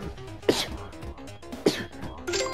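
A person sneezes three times in quick succession, each a sharp burst under soft background game sounds.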